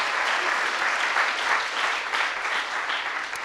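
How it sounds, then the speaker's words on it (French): Conference audience applauding after a talk at a political panel on Palestine, a dense, even roar of clapping that holds steady for a few seconds, close and fairly loud. "Applaudissements"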